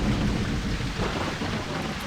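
Heavy rain pours continuously with a deep rolling rumble of very close thunder throughout, loud and dense, in the Ultima IX: Ascension video game.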